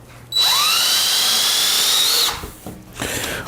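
A power drill drives screws into scrap wood trim for an indoor greenhouse build, one loud close whine rising in pitch for about two seconds, then a brief pause and a shorter second burst.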